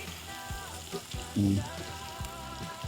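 Garlic and onion sautéing in a pan for a chicken dish, a soft, steady frying sizzle kept low under occasional clinks and stirring sounds close by.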